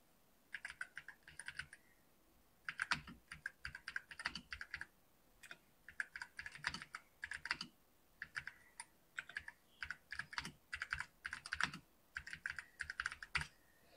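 Rapid typing on a computer keyboard while a Python program is entered, with bursts of clustered keystrokes separated by brief pauses, close and fairly quiet.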